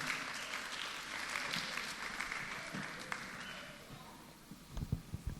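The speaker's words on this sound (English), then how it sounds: "A round of applause for Mr. Gbenga Samuel." Audience applause at a TEDx Youth event at LPSS, a steady wash of clapping from a crowd of parents and children that gradually thins out, with a few scattered claps and soft bumps at the end.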